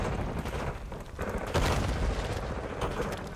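Frag grenade going off in Call of Duty: Black Ops 6 amid gunfire, a sharp booming blast near the middle with crackling debris and mechanical clatter around it, moderately loud throughout.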